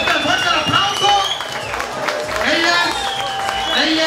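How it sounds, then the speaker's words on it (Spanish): A crowd at a bikini contest in a restaurant-bar applauds and cheers loudly and continuously, with clapping and crowd noise mixed under a talking voice. "Fuerte, fuerte el aplauso."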